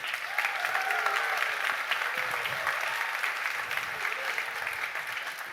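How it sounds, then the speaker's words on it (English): A keynote audience gives a big round of applause for the customer success team, steady crowd clapping that holds evenly and tapers slightly toward the end. "give a huge shout out to our CS team and a big round of applause"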